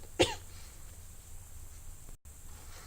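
A single short cough near the start, then quiet background hiss with no talking.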